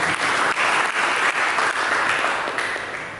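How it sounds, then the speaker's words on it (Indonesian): Sustained applause from a church congregation during a sermon, dense and steady clapping filling the space before gradually thinning toward the end. "Berikan tepuk tangan bagi Yesus."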